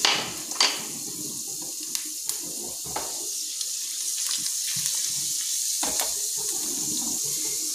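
Urad dal sizzling in hot peanut oil for a tempering, a steady bright hiss of frying with scattered small pops and crackles throughout, heard alone at close range.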